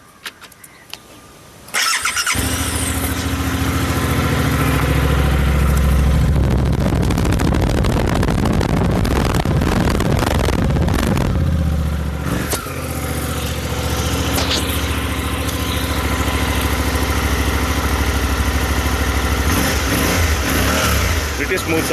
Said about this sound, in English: now we'll listen to the exhaust notes and startup of how it sounds like